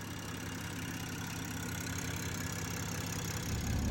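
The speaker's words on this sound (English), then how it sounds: "This is how the exhaust sounds." A big-turbo 2024 BMW M240 idles at low volume, a steady low exhaust hum with a faint whine above it, swelling slightly louder at the end.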